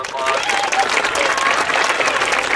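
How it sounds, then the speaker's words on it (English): Crowd at a grade-school band night applauds the band staff, a sustained wash of clapping and cheering heard close and loud, with some voices mixed into the noise throughout. "Can we give them a big round of applause?"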